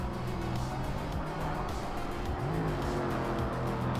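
Race car in the sim racing game Project Motor Racing, driven with a default wing setup, roaring steadily near and loud for a few seconds with engine pitch rising and dipping and a brief tire squeal.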